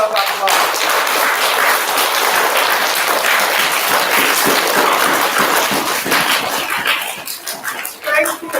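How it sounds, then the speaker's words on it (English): A school audience applauds parents at a third-grade celebration, loud sustained clapping that fills the room for several seconds before tapering off near the end. "Can we give our parents a big round of applause?"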